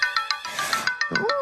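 A mobile phone ringtone plays as a run of quick, evenly spaced electronic beeps, briefly broken by a burst of noise before a rising tone and more beeps follow, close and fairly loud.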